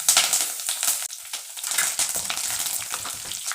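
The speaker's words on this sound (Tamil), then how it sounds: "இப்போ கருவேப்பிலை போட போகிறோம்" Curry leaves dropped into hot oil over fried fenugreek seeds for a village-style Tamil fish curry, crackling and sizzling loudly and steadily throughout, with sharp spitting pops and no talk.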